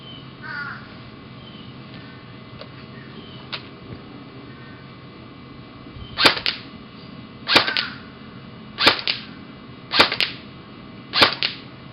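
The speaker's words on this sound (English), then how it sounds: "For this test, we're going to be firing 15 shots on semi-automatic with .2 gram BBs." A VFC SCAR-L airsoft rifle fired on semi-automatic with 0.2 gram BBs: several sharp, loud snapping shots spaced about a second apart over a quiet background, with faint handling noises beforehand.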